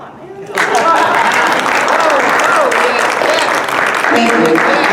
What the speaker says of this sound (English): I want an applause, man.